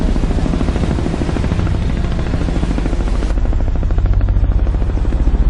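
A rescue helicopter flies close and loud, its rotor chopping in a fast, even beat that swells slightly toward the end, with no voices.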